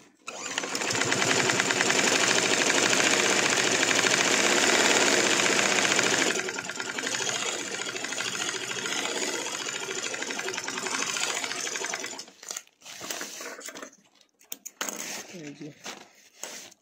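A sewing machine runs in a long, loud, steady stitching burst along the side seam of a sack bag, then slows into shorter stop-start bursts with brief handling noises; no one speaks.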